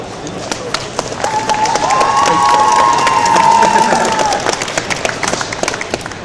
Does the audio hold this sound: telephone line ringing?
no